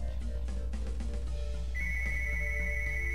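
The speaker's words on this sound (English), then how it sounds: "that's my phone ringing" A phone ringtone plays during a Golden Sun game session, a steady high electronic tone sounding over game music.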